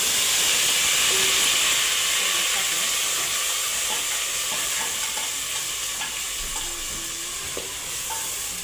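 Ground masala frying in hot oil for a spicy goat mutton curry, a loud, continuous close sizzle and hiss with faint stirring scrapes underneath.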